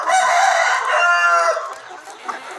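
A KUB rooster crows once up close, a loud drawn-out call that tapers off into softer clucking.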